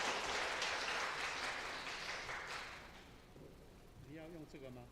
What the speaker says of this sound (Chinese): 我们拍手来欢迎她来